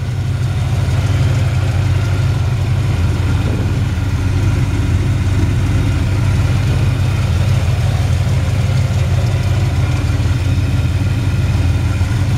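A 1972 Chevy C-10 pickup with a 454 V8 idles steadily and loudly, its deep, even rumble running without a break and no voices over it.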